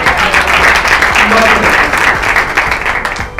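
Loud, dense audience applause with scattered cheering fills the room after an online e-learning session, continuous throughout and thinning slightly at the end, with faint voices underneath.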